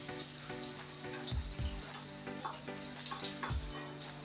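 Cumin, chopped onion and chillies frying in hot oil, a steady close sizzle with a few soft low thumps of stirring, no talking.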